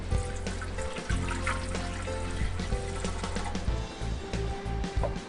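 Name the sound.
warm water poured into bread machine pan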